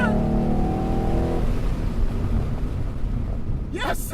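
A Ford Mustang's engine roars loud and close during an autocross run, with a steady droning pitch that sweeps as the car accelerates; a voice breaks in briefly at the end.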